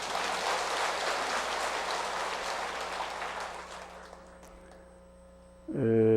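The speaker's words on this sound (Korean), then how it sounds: "박수 한번 쳐요" Worshippers at a Buddhist temple dharma service applaud, a dense wash of clapping that gradually fades away, leaving a steady electrical hum, before a louder sound cuts in at the very end.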